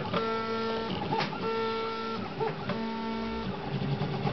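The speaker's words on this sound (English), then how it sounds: "I'm printing out a extruded LinuxCNC logo. It's kind of a 3D key fob version of the LinuxCNC startup" A MendelMax 3D printer run by LinuxCNC on a BeagleBone prints an extruded logo key fob, its stepper motors whining in shifting tonal bursts and short moves, close and steady.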